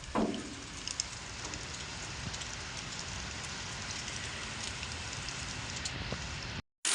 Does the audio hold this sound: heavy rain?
yes